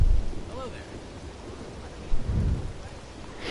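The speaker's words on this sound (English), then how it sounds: "Oh, chunky rain." Rain falls steadily in the video game Red Dead Redemption 2, a constant hiss of drops on surfaces with low thunder rumbles rolling in at the start and again partway through.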